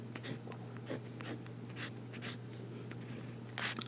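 A Wearever Pennant fountain pen nib glides across paper in soft, close scratchy strokes, irregular short bursts over a steady low electrical hum, quiet and without talk.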